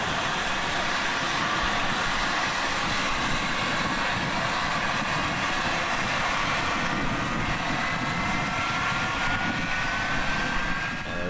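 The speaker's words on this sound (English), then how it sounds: "Now we'll do the same with our right engine." The right engine of a MilViz F-4S/J Phantom II jet in a flight simulator spools up with a loud, steady turbine roar and a faint rising whine that holds constant throughout.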